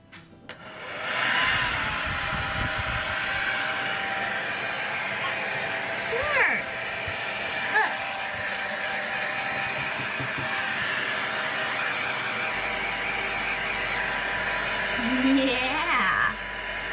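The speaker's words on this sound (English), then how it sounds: "But starting with the hairdryer." A hair dryer blows with a steady, loud whoosh throughout, while voices talk over it and a cat-like cry rises briefly near the end.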